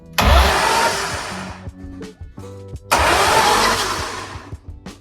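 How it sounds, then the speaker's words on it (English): BMW M52 inline-six fitted in a Volvo 240 cranking over on the starter in two long bursts without catching, loud and close, with a short pause of clicks and whirring between attempts. "I've been able to get this engine to crank."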